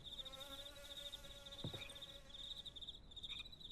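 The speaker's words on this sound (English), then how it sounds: "Oh, the crickets got louder." Crickets chirp steadily near an abandoned mine, a continuous high trill with a few fainter insect calls layered in, quiet and even, with a brief thump midway.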